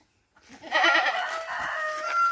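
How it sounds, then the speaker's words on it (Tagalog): A goat on a farm gives one drawn-out, wavering bleat that starts abruptly after a moment of quiet, loud and fairly close, and is heard alone. "Dami sila kambing oh"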